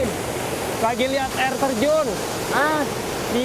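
A waterfall at Coban Lana in Batu gives a steady broadband rushing roar that runs the whole time, with several people talking over it.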